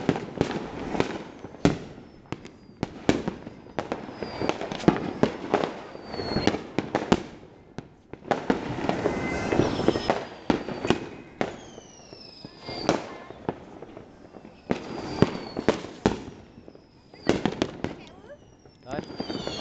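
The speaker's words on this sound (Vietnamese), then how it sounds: "Chưa giờ giao thừa thì mọi người đốt pháo rất là nhiều." Dense fireworks and firecrackers going off on Lunar New Year's Eve in a Vietnamese hometown, a relentless crackle of sharp bangs and rapid pops, some near and loud, others distant, with whistling rockets streaking through and occasional voices under the din.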